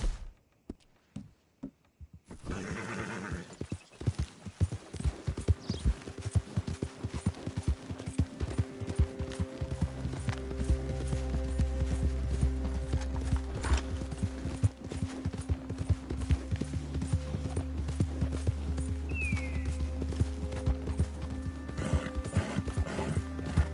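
Horse hooves clip-clop at a gallop in Red Dead Redemption 2 near Valentine, a steady rapid beat under a low musical drone, with a brief whinny and occasional knocks over the ride.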